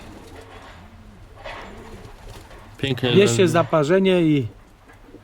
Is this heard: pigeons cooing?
yes